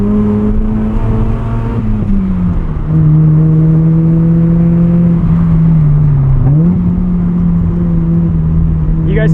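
A 1990 FC Mazda RX-7 rotary engine hums steadily and loud under throttle through a canyon corner, its pitch sagging and climbing with the load, heard from inside the car with no talk.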